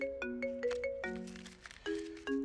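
A phone ringtone plays a repeating electronic melody of bright tonal notes in short phrases, loud and close, with no talk over it.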